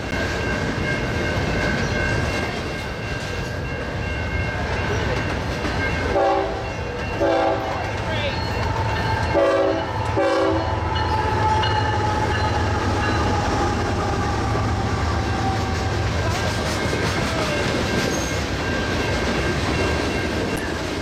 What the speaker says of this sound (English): A BNSF 25th anniversary tribute unit is trailing on this double-stack train.